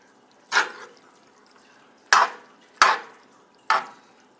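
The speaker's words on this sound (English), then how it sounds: "I'm gonna stir this up and then I'm gonna put probably more little by little." Chicken casserole mixture with milk being stirred in a pan, heard as four separate wet scraping, sloshing strokes at close range with short quiet gaps between them.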